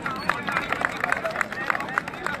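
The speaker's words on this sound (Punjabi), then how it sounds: "ਤਾੜੀ ਮਾਰ ਲਓ" Crowd at the 2017 Gravesend UK Kabaddi Cup final clapping in a fast, dense patter, with a voice calling out over the applause.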